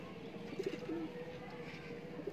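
A racing pigeon coos softly a few times over a steady outdoor background murmur, with distant chirps around it.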